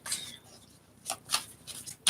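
Soft papery shuffling of a glossy oracle card deck in a few quick bursts, close by and fairly quiet, with brief pauses between riffles.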